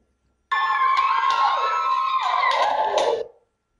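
A crowd cheers and shouts in support of a performer, a dense, bright burst of many voices that holds steady for about three seconds and then cuts off.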